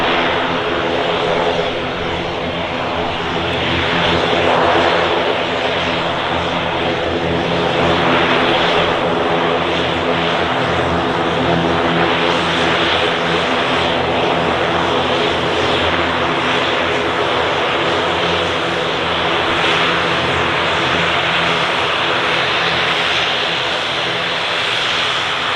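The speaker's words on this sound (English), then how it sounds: "The Etihad's taxiing out now as well." An Etihad airliner taxis at Manchester Airport with a continuous, loud engine roar that swells and eases slightly throughout, heard from a spotting position with no talk.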